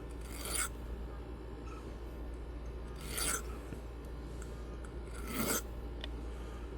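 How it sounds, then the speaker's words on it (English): A metal file rasps across the top of a ring in three separate strokes, each a short, close, dry scrape with pauses of quiet between them. "Now let's take our metal file and just kind of run across the top for a second."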